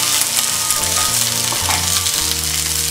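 Garlic cloves, ginger, onions and tomatoes roast in a pan with a loud, dense, steady sizzle, close up, under a low hum from the stove and no talking.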